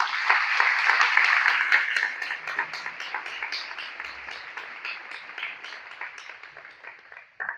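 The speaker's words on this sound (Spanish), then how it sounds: "Denle un fuerte aplauso al Señor." A church congregation gives a strong round of applause. Dense clapping is loudest at first, then thins into scattered claps and fades toward the end.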